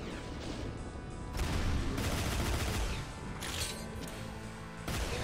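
Gunfire from weapons in Doom's Back to Saturn X, a dense barrage of overlapping shots that swells loud after the first second and stays heavy, with crashing blasts throughout and no talking.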